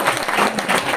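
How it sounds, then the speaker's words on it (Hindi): An audience breaks into loud, dense applause, many hands clapping together in a continuous close roar for a brief moment. "तालियां बजाइए इनके लिए।"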